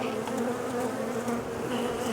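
Honeybees around an open hive during a split, a steady, dense buzz close to the microphone with slight swells, no voices.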